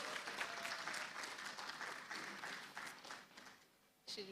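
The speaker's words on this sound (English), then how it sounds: "Big round of applause." Audience applause for the winner of the Grace Alele Williams Master's PhD Dissertation Award at the Deep Learning Indaba, steady and dense, fading near the end before a short burst of sound returns.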